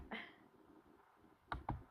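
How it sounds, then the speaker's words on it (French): A few sharp computer keyboard clicks in quiet: one early tap, then two quick keystrokes near the end. "j'ai besoin de mon clavier pour écrire."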